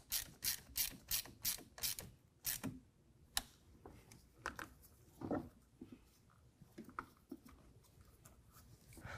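A ratchet with a 10 mm socket snugs down a bolt on a 2022 Ford Bronco headlight install. A quick run of crisp clicks comes first, then slower, irregular ratcheting clicks and taps, close and fairly quiet.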